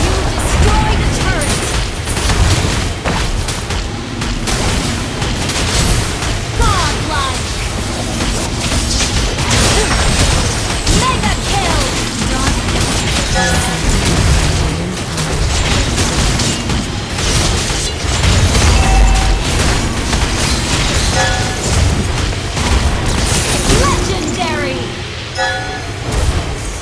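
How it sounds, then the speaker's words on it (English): Booming explosions and crackling blasts from a video game battle as a turret is destroyed, dense and continuous with music and game voice lines layered throughout. "Your team destroyed a turret!"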